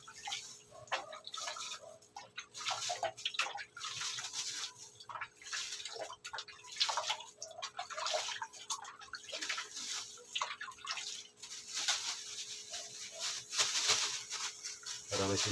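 Water is poured over harvested lettuce leaves, giving intermittent splashes and trickles with small drips, fairly faint and close, with no talking.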